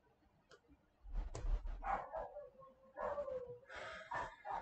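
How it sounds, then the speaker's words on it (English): Several dogs barking and yipping in short bursts, with whimpering tones mixed in, moderately close over faint background sound. "And the dogs are barking."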